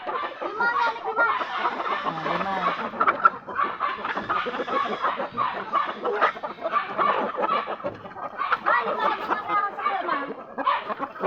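A flock of chickens clucking steadily and busily, several birds close by, with some low voices faintly under them.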